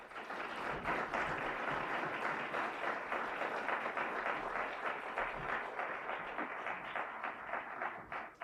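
Sustained audience applause fills a hall as a speaker is welcomed, dense even clapping holding steady for about eight seconds before tapering at the end.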